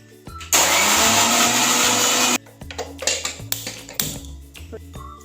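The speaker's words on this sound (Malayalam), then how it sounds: "അപ്പോൾ നമ്മൾ മിക്സിയിൽ ഒന്ന് ചതച്ചെടുക്കാനായിട്ട് ഒരു 3-4 പച്ചമുളക്, ഒരു ചെറിയ ഇഞ്ചി കഷ്ണം, കുറച്ച് വെളുത്തുള്ളി, കുറച്ച് ചെറുള്ളി" A kitchen mixer grinder crushing green chillies, ginger, garlic and shallots whirs loudly in a single burst of about two seconds, then stops, followed by light clattering and knocks of the jar.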